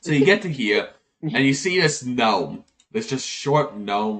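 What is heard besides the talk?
No everyday noises stand out.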